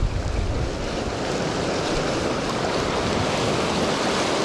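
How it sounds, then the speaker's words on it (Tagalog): Steady roar of large ocean waves and surf during a storm, with strong wind buffeting the microphone throughout, no voices. "Lalaki ng alon, grabe oh"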